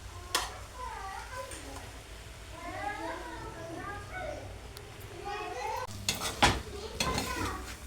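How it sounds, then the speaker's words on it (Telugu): A spoon scrapes and clinks against a pan as egg rice is stirred and mixed, with the clatter growing sharper and louder toward the end while a person talks through most of it. "ఇప్పుడు ఇలాగ అంతా మిక్స్ చేసుకోవాలి."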